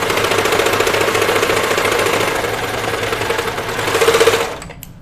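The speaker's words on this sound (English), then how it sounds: "So I'm just going to serge these on." A serger runs continuously at high speed while stitching pockets onto a Moneta knit dress, a loud, close, even whir that swells briefly near the end and then stops abruptly.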